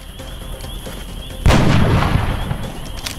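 Gunfire against thin men in XCOM Enemy Within: a quiet hum breaks into one loud, close blast with a long rumbling tail, then a sharp crack near the end.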